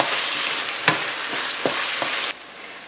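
Spiced eggplant filling for gözleme sizzling and frying in a pan, a steady loud hiss broken by several soft scraping stirs of a spoon before the sizzle cuts off near the end; no voices.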